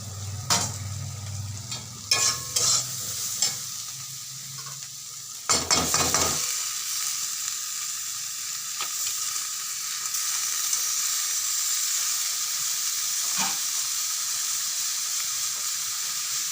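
Banana flower frying and being stirred in a pan, with a steady sizzle throughout and scraping strokes of a spatula that are loudest early on, then settle into a constant hiss.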